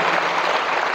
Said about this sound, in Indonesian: Tepuk tangan buat Bekasi